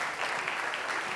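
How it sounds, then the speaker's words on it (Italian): Dense audience applause in a TV singing contest finale studio, a short, steady wash of clapping with no voices over it. "Un applauso ad Alfio ancora."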